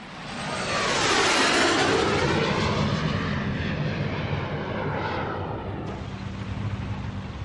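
A military airplane roars overhead during the 1975 war in South Vietnam, its engine noise swelling loud and sweeping across before slowly fading.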